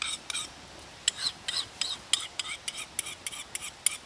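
An outdoor tool's blade edge is touched up in the field, about a dozen short, regular rasping strokes of a sharpener against steel, close and crisp with brief pauses between passes.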